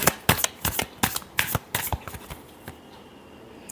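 Tarot cards shuffled by hand in a rapid run of crisp riffling bursts, close and clear, tapering off into quiet near the end.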